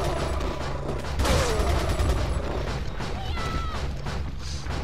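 Rapid bursts of TMP submachine gun fire in Resident Evil 4 gameplay, with loud crackling shots layered over game ambience and other effects.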